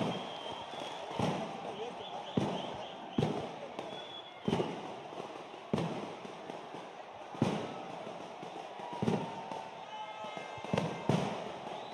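Firecrackers burst repeatedly at the Ramanagara festival in sharp, irregular cracks spaced a second or so apart, heard at a moderate distance over crowd murmur and faint voices.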